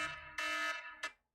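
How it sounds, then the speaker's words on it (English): A phone alarm beeps in three harsh, buzzing tones of uneven length, faint and alone with no talking, ending abruptly. "that was my alarm that went off"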